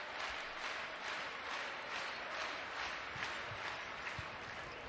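A crowd at a Wisconsin versus Minnesota college volleyball match near match point cheers and claps in a steady, distant roar, faint and even throughout, with no voices standing out.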